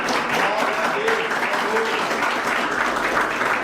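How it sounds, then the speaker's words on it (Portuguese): A church congregation applauds loudly during a worship service, producing a dense, sustained roar of clapping hands that continues evenly throughout. "glorificar o Senhor com as palmas bem fortes para Deus"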